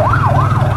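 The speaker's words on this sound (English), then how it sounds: "Got an ambulance headed south." An ambulance siren wails on a street in Subic Town, Philippines, loud and close, its tone sweeping up and down over a low steady engine rumble.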